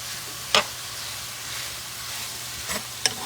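Vegetables fry in a hot pan on turned-up heat, a continuous soft sizzle broken by three sharp utensil knocks or stirring taps.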